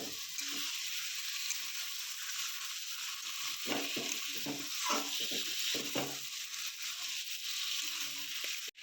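Chicken liver with spices fries in a pan, a constant loud sizzle, while a spoon stirs and scrapes through it in uneven bursts.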